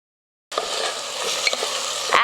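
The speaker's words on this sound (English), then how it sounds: "now we're going to add our tomato puree. Now we're going to mix this" After a brief silence, a spoon stirs blanched vegetables with tomato puree in a hot pan, giving a steady close sizzle with scraping strokes and a louder scrape at the end.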